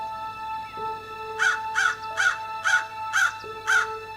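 Crow cawing at the Grand Canyon, six harsh, evenly spaced caws in a steady rhythm, loud and fairly near over a quiet background with a faint steady tone.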